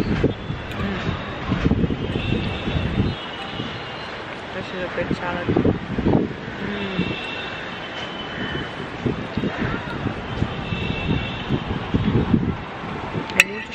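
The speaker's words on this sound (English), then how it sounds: "It's seriously so windy." Gusty wind buffets the microphone in rough bursts at a rooftop pool overlooking Marine Drive, Mumbai, with muffled talking underneath throughout.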